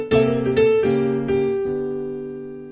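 Blues riff number 9 played up to speed on a keyboard: a few quick struck notes and chords close together, then a held chord ringing out and slowly fading, clear and alone.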